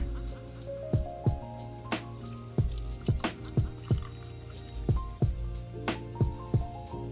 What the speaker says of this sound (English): Wait for that to finish pouring out. As the final drips come out and it starts to level